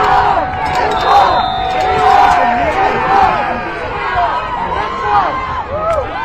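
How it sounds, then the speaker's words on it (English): Crowd at an Ohio high school football regional semifinal, Edgewood versus Piqua, roaring and cheering after an interception, a dense sustained wall of shouts and whistles that swells and stays loud throughout. "and listen to this crowd, Jeff."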